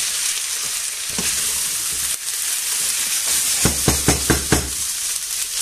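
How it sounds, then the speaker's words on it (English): Rice stir-frying in a hot pan, a continuous bright sizzle with a run of rhythmic scraping stirs toward the end, close and loud with no talking. "give it a good stir fry for about 5 minutes"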